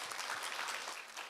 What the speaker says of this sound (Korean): 박수로 좀 맞이해 주세요